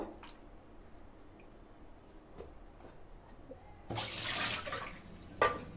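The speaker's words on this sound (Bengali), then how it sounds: "এভাবে আম ধুয়ে জলটা ঝরিয়ে নিব" Water rinses washed raw mangoes and drains through a mesh onto a plate. Quiet trickles give way to a louder, close splashing pour that ends with a small clatter.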